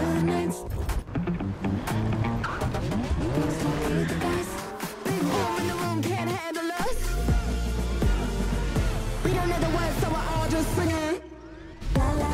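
Cars in a Motorfest racing video game trailer roar and rev through shifting pitches, with tire squeals, whooshes and a bang amid dense layered game sound and music-like swells, loud throughout.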